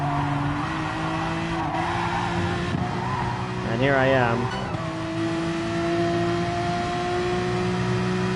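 A Porsche 911 RSR race car engine holds a steady high-pitched drone through high-speed turns, with a brief warbling tire squeal in the middle and a shift in engine pitch, while someone talks over it.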